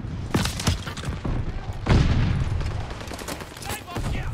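Glide bomb explosion in Call of Duty Vanguard: one heavy booming blast midway, set among scattered gunshots and battle noise that continue on both sides of it.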